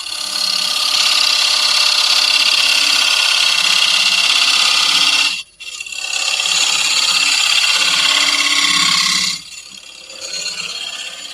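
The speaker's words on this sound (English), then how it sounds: "just use a shape scraper to do the mortise." Wood lathe running as a shape scraper cuts a mortise, a loud steady scraping whine that drops out briefly, resumes, then fades to a quieter hum near the end.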